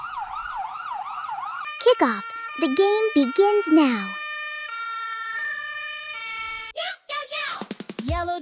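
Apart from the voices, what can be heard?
toy police car and fire truck sirens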